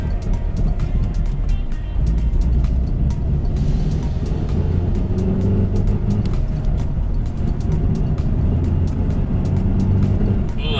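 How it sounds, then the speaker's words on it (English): A manual Mazda 3 with broken engine mounts drones loudly from inside the cabin, its engine running steadily with ticking and rumbling that may hold grinding and thunks. "whenever you clutch in, lift out the gas, you hear this awful grinding and thunk sound"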